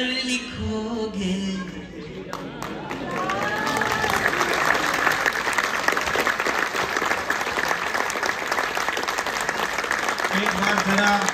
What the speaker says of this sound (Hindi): हाथ उठाकर तालियां बजाते हैं।